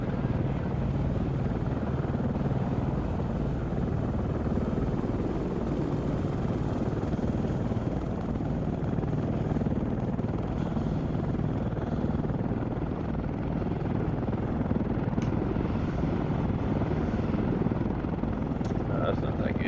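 AH-64D Apache helicopter in ARMA 3, a continuous rotor and turbine drone held at an even level throughout, close and steady with no pauses.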